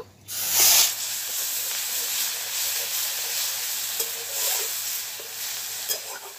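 A loud burst of hissing as wet onion paste hits hot oil with whole garam masala, settling into continuous close sizzling with faint stirring scrapes.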